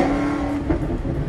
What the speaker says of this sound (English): Maseratis sound just incredible, you know, when they got the Ferrari engine in it